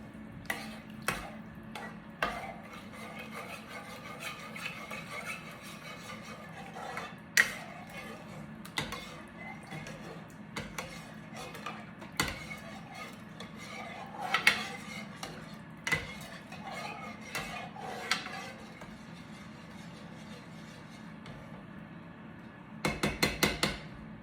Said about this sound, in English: All right, let's put this on the stove.